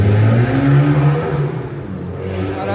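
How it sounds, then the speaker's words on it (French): Car on a street in Sydney revving loudly as the driver shows off, a strong engine roar that rises and then fades over a few seconds. "Vas-y, lui, il flambe avec sa voiture."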